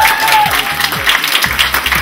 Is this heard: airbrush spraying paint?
no